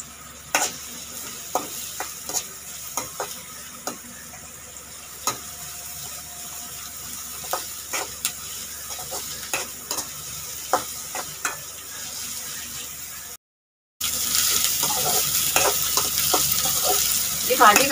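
Chopped onion sizzles steadily in a pan for the leaves stir-fry, with a spoon scraping and clinking at irregular intervals; a brief dropout near the end gives way to louder, brighter frying.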